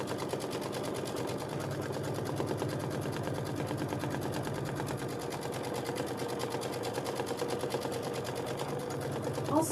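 A sewing machine stitching a fabric book bag runs steadily for the whole stretch, its needle hammering in a fast, even, mechanical rhythm, close and moderately loud, with a slightly odd rattling edge.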